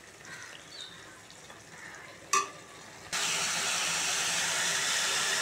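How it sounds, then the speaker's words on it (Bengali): Chicken keema meat with salt being fried and stirred in a hot pan, a steady loud sizzle that starts abruptly partway through after a quieter stretch with a brief clatter, continuing without talk. "মাংসটা ভালো করে কষিয়ে নেব।"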